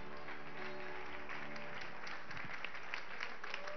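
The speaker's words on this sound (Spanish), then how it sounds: "Dale un aplauso a Cristo." A church congregation breaks into applause, a continuous muffled crowd clapping with a faint steady background tone, fairly quiet throughout.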